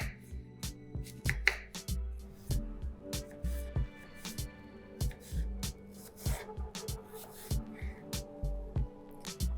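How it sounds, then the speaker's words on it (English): A knife chops cored apples on a cutting board for an eggless apple cake, giving steady, close, sharp knocks with no speech. "I'm just going to leave out the core and start chopping."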